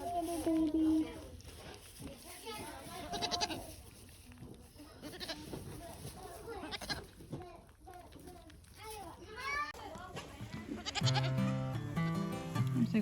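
Young goat kids bleating in a barn, repeated high wavering cries at close range, with people talking softly between and over them.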